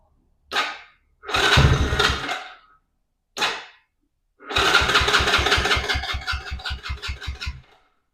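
A 110cc Chinese ATV engine on full choke is cranked in short bursts of whirring starter noise, then catches and runs briefly with a rapid, rhythmic putter before dying away; no voices.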